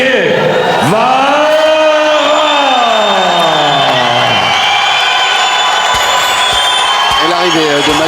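Arena audience at an S1 World Championship kickboxing event cheering and applauding as French fighter Mathieu Guevara makes his ring entrance, a loud continuous crowd roar beneath booming entrance music and an announcer's voice.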